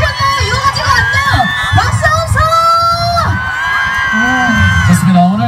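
Crowd at an outdoor festival concert cheers, shouts and whoops loudly, with high-pitched voices rising and falling in overlapping calls close by.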